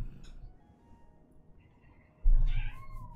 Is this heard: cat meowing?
yes